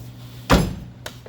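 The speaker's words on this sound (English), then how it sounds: "Let me close the door." A Volkswagen Jetta MK4 door shuts with one solid, close thunk, followed by a faint short rattle.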